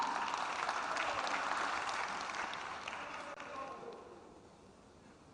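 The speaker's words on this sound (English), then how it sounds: "Let's clap to that." Festival audience applause, a dense patter of many hands clapping that gradually fades away over several seconds.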